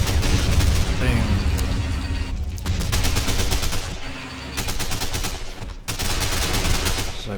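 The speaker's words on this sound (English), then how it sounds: "So I've got a sniper there engaging." Rapid gunfire crackles through a dense, noisy battle in the real-time strategy game Men of War, with a sniper engaging enemy infantry. Shots keep coming with short dips between bursts.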